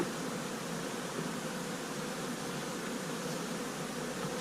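Honeybees in a small winter hive cluster give off a faint, steady hum, a soft and even buzz heard close with no voices.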